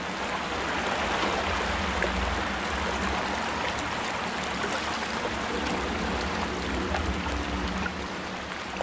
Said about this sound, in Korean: 물소리 ASMR. 노젓는 소리.